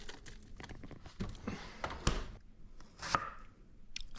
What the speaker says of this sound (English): I want some chopped red onion.